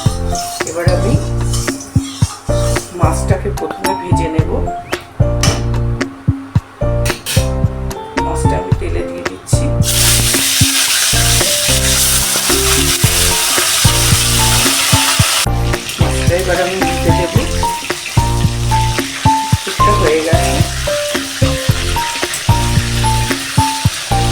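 Fish fries in hot oil in a wok with a constant, loud sizzle and occasional utensil clinks, all partly buried under steady background music throughout.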